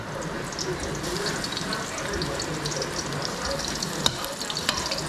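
Ginger frying in a hot kawali, with garlic to follow, for chicken tinola: a steady close sizzle with light crackles and a sharp clink of a utensil near the end.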